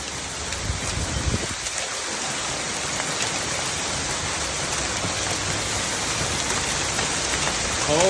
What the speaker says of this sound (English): That's a legit hailstorm.